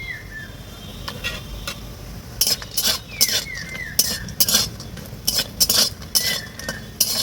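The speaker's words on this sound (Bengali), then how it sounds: "এই দেখুন বড়িগুলো ভেজে নিচ্ছি" Lentil dumplings (bori) frying in a pan and being stirred, with a metal utensil clinking and scraping against the pan in irregular bursts, over a low background hiss and occasional chirping birds.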